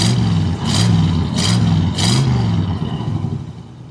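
A car engine with dual exhaust revs up three times in a row, throaty exhaust rising and falling, bogging down, then drops back to a rough, low idle.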